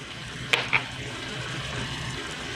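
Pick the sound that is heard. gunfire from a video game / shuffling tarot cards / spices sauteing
spices sauteing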